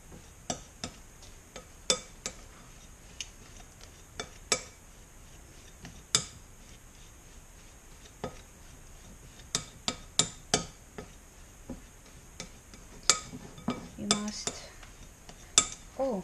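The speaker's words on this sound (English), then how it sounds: "So mix all these ingredients together." Utensil scraping and clinking against a bowl while bean flower paste ingredients are mixed, sharp irregular metallic ticks spaced through a quiet room, some clustered in quick pairs, close and crisp with no talk.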